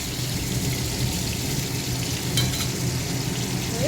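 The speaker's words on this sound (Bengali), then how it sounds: "এখানে পটলগুলো ঘরে পড়ে রয়েছে তো ভেজে দিই" Young pointed gourd (potol) frying in a pan, a steady, close sizzle with soft stirring scrapes throughout and no talk.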